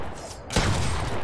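A new pump shotgun fires in a video game, a single loud, close blast that strikes midway and leaves a broad rumbling tail.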